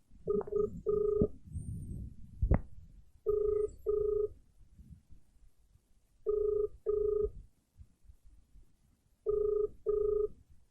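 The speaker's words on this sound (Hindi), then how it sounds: "पीयूष पता नहीं भाई कहाँ है, तो जो फोन करता हूं।" A telephone call being placed: a burst of dialing tones, then a repeating ring-back in regular paired pulses spaced a few seconds apart, fairly clear over a faint background.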